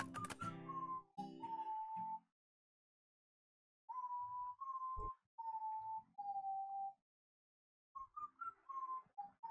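A fisherman character in the video game TOEM whistles a lilting melody in short clean phrases separated by silent gaps, with faint clicks between the phrases.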